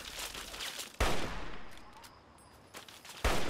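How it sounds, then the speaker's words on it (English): Heavy-weapon fire, apparently a minigun, in the Fallout 3 video game: sharp bursts start and cut off abruptly, with a fainter stretch between them and no talk. "Oh, no, one of them has a minigun."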